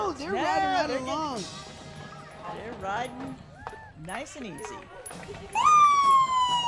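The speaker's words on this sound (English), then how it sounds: "if you heard a siren in the background" An ambulance siren at a street parade, the Garden Grove Strawberry Festival, swells in near the end with a rising wail, loud under steady commentator talk and crowd noise.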